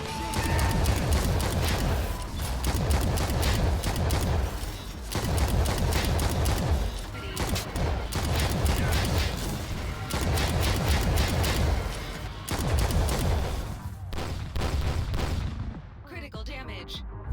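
Dense, loud gunfire fills the La Quimera shooter game, with rapid overlapping shots and heavy booms rolling on without pause and only brief dips before thinning at the end.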